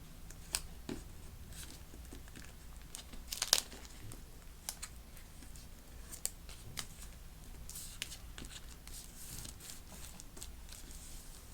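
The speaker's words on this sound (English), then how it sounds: "So we're just going to take those side pieces and fold them over onto that plastic." Thin plastic garment bag side flaps being folded over, giving soft continuous crinkling and rustling close by with a few sharper crackles, no talking.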